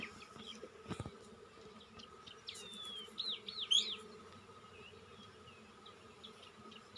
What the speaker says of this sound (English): here inside you will find full of worker bees, they are performing